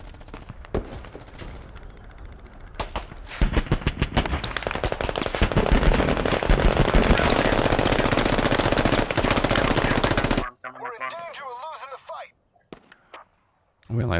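Gunfire in the Squad military shooter: rapid automatic bursts and scattered shots build into a continuous loud, close barrage that lasts several seconds, then cuts away to quieter game sound with faint distant noises.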